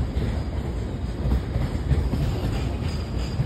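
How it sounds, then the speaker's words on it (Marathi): Train running on its tracks toward Panvel, a steady dense low rumble of wheels and carriages heard close and continuous, with no voices over it. "ही ट्रेन चालली पनवेलला।"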